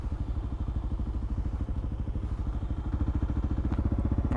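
Motorcycle engine on a Karoo road trip between Sutherland and Williston, a low, steady rhythmic thumping putter heard close while riding, with no talk.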